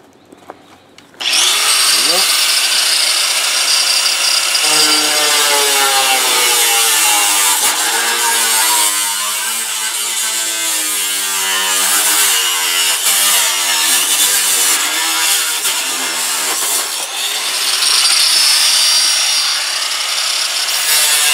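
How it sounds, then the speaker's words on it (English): An angle grinder fitted with a cutting disc slices through a metal locker, bursting in loudly after a quiet start and then holding a harsh, high screaming whine that wavers in pitch as the cut progresses. "I'm just cutting this with an angle grinder with a cutting disc on it."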